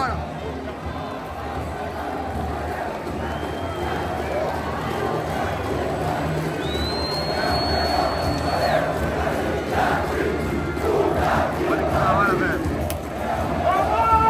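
A stadium crowd of Vasco football fans sings and roars continuously after a penalty-shootout win over Agua Santa, a dense wall of massed voices with a closer voice talking over it.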